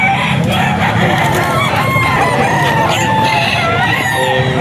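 Several roosters crow over one another amid steady clucking from a flock of chickens, loud and continuous throughout.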